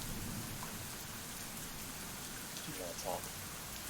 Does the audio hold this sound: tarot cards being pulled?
no